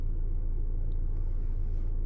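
A Ford Transit Custom V362 2.0 EcoBlue van with an alternator fault, driving with a steady low engine and road rumble heard from inside the cabin, with no voices.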